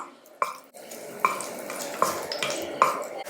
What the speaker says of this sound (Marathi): तूप गरम झालं की यामध्ये आपल्याला दालचिनी लवंग आणि हिरवी वेलची घालायची त्याला असं मिनिटभर आपण तुपामध्ये परतून घेणार आहोत